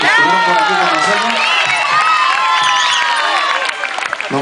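A salsa concert audience cheers, whoops and applauds loudly and continuously for a Colombian group, with shouting voices across the crowd before the noise eases slightly near the end.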